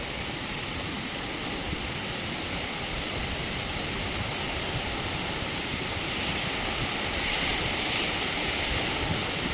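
Waterfall spray beats down on a hill road, giving a steady, loud, broadband rushing hiss with no pauses or breaks, close by and constant throughout.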